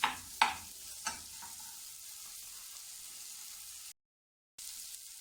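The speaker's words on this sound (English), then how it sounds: "Fry till it's fragrant" Egg fried rice cooks in a pan with a steady soft sizzle, opening with a few sharp clanks of a utensil before a brief dropout of silence.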